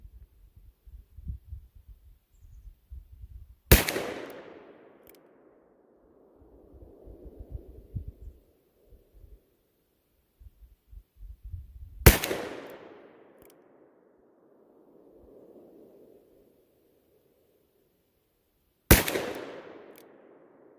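Three loud, sharp revolver shots from a Smith & Wesson 686 Plus six-inch firing soft point rounds, each a single crack with a ringing decay, spaced several seconds apart, with faint low handling noise and rustle between them.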